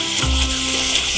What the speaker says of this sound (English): You can hear it, I'm frying the meat